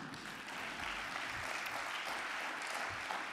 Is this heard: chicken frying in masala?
no